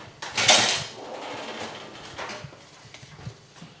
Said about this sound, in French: vous allez venir râper votre carotte